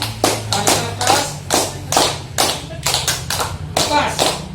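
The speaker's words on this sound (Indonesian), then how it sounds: "Coba tepuk tangan yang kencang ya, makin kencang" A group of people claps hands loudly in bursts, a series of sharp, uneven rounds of clapping close by, with some talk mixed in.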